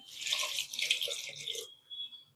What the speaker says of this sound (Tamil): இது தண்ணி ஊற்றிக்கலாம்.